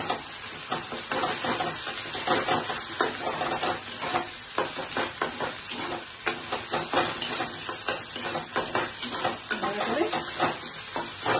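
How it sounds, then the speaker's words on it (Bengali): Egg frying in a pan for egg bhurji with jackfruit seeds, a steady close sizzle with repeated scraping and stirring strokes against the pan running throughout, no talk. "এবার ডিমটাকে ফ্রাই করে নিলাম।"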